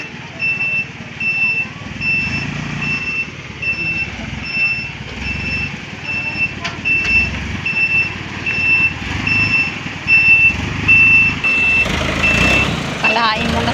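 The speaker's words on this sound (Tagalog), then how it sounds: "May papasok na truck." Garbage truck pulling in, its engine rumbling nearby while a loud, regular reversing beep repeats throughout, with the engine growing louder toward the end.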